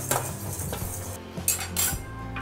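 A spoon scrapes and clinks against a pan as vegetable masala is stirred and fried until brown, giving a few close metallic knocks and scrapes over a faint sizzle, with no speech.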